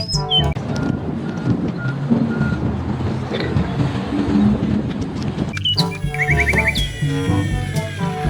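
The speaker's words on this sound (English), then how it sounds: "Wheel loader." Wheel loader working on a construction site, its engine rumbling steadily up close while a regular series of high reversing beeps sounds in the later part, with some birdsong over the top.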